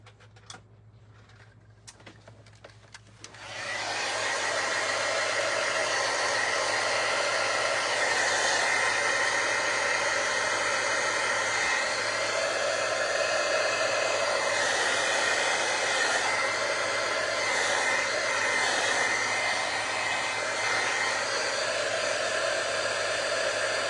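A hair dryer blows steadily for about twenty seconds, drying paint on a gel printing plate in an art session. It starts with a sudden switch-on after a few seconds of quiet, then holds a loud, continuous whoosh with no talk.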